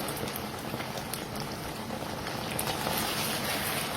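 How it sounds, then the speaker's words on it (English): Koftas bubble in a pot of water on the stove, a continuous close hiss and crackle of boiling at a fairly even level, with no talk over it. "Since the koftas have to boil now, I am adding two cups of water."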